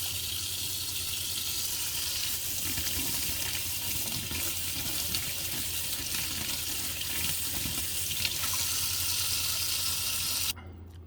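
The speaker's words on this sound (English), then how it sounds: "then we're going to rinse it under the water for a minute" Water from a kitchen tap runs steadily as a Keurig water filter cartridge is rinsed beneath it, a close, continuous hiss and splash that stops abruptly near the end.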